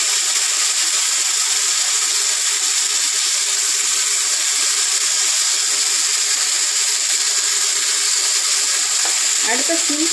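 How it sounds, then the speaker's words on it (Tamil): Raw potato slices fry in a generous pool of oil on a tawa, giving a loud, continuous close-up sizzle, with a brief clatter of a utensil near the end. "இப்போ உருளைக்கிழங்க ஃப்ரை பண்ணிக்கலாம்."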